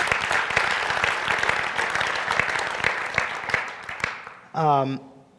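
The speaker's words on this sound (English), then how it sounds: "So give them a round of applause." An audience applauds with dense, steady clapping that fades out, and a single voice starts speaking just as it ends.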